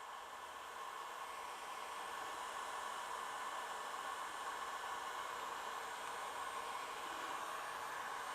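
A Harbor Freight Hercules heat gun runs steadily with its heating element on, giving a constant close airy whoosh and hiss that holds at an even level throughout without any talking.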